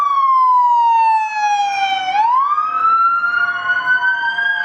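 Police car siren on a Las Vegas street during SEMA week, a loud, close wailing tone that sweeps down, then rises and holds, with faint traffic noise beneath and no talking.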